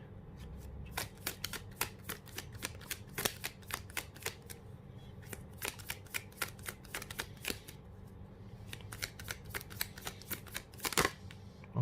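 Tarot cards shuffled and drawn by hand, a long run of quick crisp riffling snaps and slides close by, with a denser flurry near the end, no voices.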